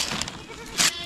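A goat at a rural farm gives a short bleat near the end, preceded by faint bleating sounds amid outdoor background noise.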